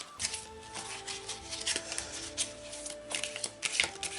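A heart-shaped guardian angel oracle card deck is shuffled up close, papery riffles and flutters in uneven bursts, fairly quiet, no talking.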